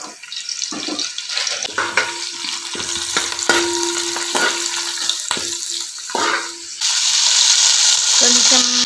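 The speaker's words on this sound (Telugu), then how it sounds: "పచ్చిమిర్చులు, ఉల్లిపాయలు, గరం మసాలా, చెక్క, ఆకు ఇవన్నీ వేసేసుకుంటున్నాం." Green chillies, onions and whole spices such as cinnamon and bay leaf frying in onion-fried oil in a pan for mutton pulao, a steady close sizzle with clatter and stirring, turning louder and hissier near the end.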